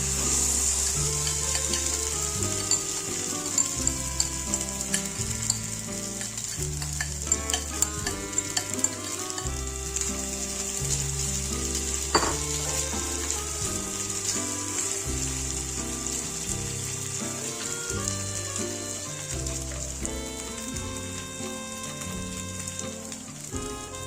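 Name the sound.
chow mein mixture sizzling in hot oil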